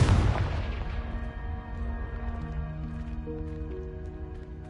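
Confringo blasting spell in Hogwarts Legacy: a single loud explosive burst at the start that decays into rumbling debris and lingering tonal ringing, with no speech over it.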